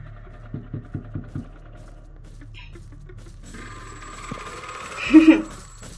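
A bell-like alarm clock ringing in the video game Doors, with quick repeated pulses early on, followed by a brighter, louder electronic tone near the end, amid low background rumble.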